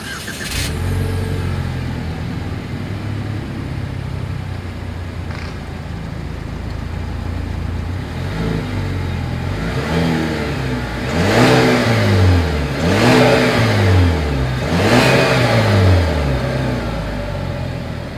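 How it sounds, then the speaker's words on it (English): A 2020 Chevrolet Malibu sedan idles steadily, then revs hard three times in quick succession, each rise and fall of the exhaust note loud and close. "As always, here is that exhaust clip."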